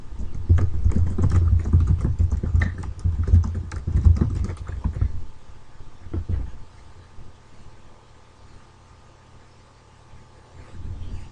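Typing on a computer keyboard to enter a sentence into a text field: a fast, close run of light plastic key clicks with an occasional heavier thump for several seconds, then the keystrokes thin out to quiet, scattered taps.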